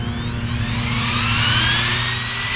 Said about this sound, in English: I can control my fans with this remote right here